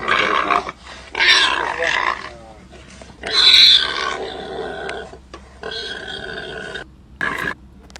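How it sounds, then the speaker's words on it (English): A wild boar attacks a cheetah, producing loud, harsh bursts of grunting, squealing and growling in several separate outbursts broken by short pauses. "a wild boar is not really that interesting of an animal, but they just attacking this cheetah"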